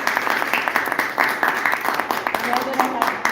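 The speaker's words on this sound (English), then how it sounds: "I just want to give them all a round of applause." An audience applauds a guest panel at a Green Drinks Boulder gathering. Lively, close clapping from a modest crowd runs through the whole moment, while a voice talks over it.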